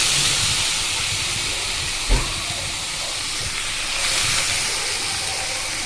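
Squeezed banana stem dropped into a hot pan of tempered oil, giving a loud steady sizzle and hiss that flares briefly on the drop and runs on without talk.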